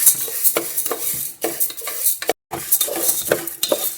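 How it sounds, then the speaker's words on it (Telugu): Toor dal being dry-roasted in a pan, with a spoon scraping and clattering against the metal and the grains rattling, a busy continuous close-up sound with one brief dropout. "ఒక గ్లాసు కందిపప్పు వేయించుకుందాం."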